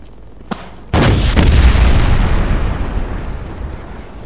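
A tank explosion in the Wolfenstein video game: a small pop, then a sudden loud, close boom that bursts out and rolls into a long, slowly fading rumble.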